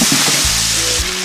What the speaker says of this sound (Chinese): 火锅底料，干辣椒炒香它。